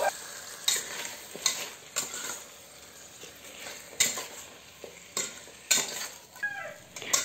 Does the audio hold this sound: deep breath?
no